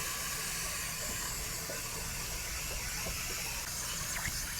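Water rinsing through the tank of a camper's water heater, a steady broad rushing gush and hiss running for the whole stretch at an even close level, with no talk.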